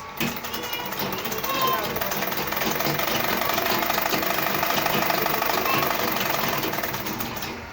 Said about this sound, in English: You sew the four corner that you have there. Sew like this, and like this.